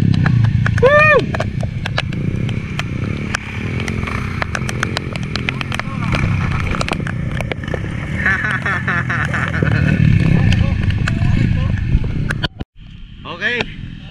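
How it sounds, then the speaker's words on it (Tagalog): A modified underbone Raider 150 motorcycle engine buzzes and revs continuously up close at a motocross outing, with sharp rising whines as the throttle opens, people cheering and talking over it, and a brief cutout near the end. "underbone modified Raider po makina yan. Raider 150."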